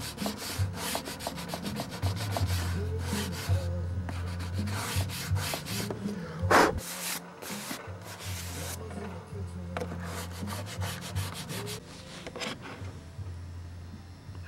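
Steady rubbing scrape of folded sandpaper sanding a painted surface during paintwork on a Windy Master 895 boat, continuous strokes with a brief louder knock midway, close and fairly loud with no talk.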